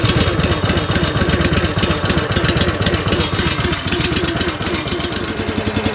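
Commercial log splitter's small gas engine idling steadily while warming up, a loud, close, continuous putter with a fast even firing rhythm throughout.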